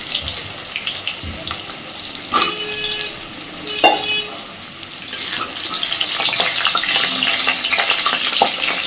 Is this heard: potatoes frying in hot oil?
yes